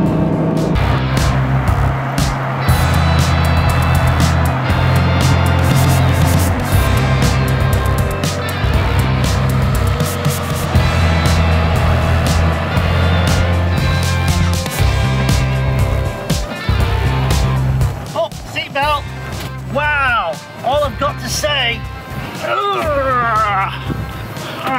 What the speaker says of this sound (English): that was amazing driving Rory's Ferrari Testarossa